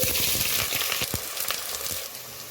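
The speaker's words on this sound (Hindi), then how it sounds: "अब प्याज को मीडियम फ्लेम में लाइट गोल्डन ब्राउन होने तक फ्राई करेंगे" Sliced onions sizzling in hot mustard oil in a pan over medium flame, a steady close crackling hiss with small pops.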